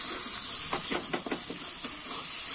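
Spices sauté with salt and turmeric in a pan for prawn malai curry, giving a loud, steady frying hiss broken by a handful of close spatula scrapes and stirs, with no talking.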